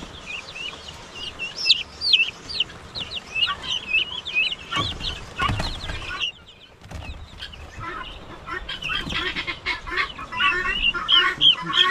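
Jersey Giant chickens cluck and chirp steadily in a farmyard, many birds calling close and overlapping, with a burst of wing flapping midway and no talk.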